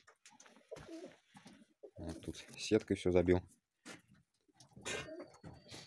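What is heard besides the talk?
pigeons cooing in a shed aviary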